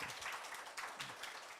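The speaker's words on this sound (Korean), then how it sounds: "소중한 우리 교회의 다음 세대들에게 감사와 격려의 박수를 좀 보내볼까요?" Church congregation applauding the children at a Children's Sunday worship service; a soft, steady patter of many hands clapping at once, fairly distant and even throughout, with no voices over it.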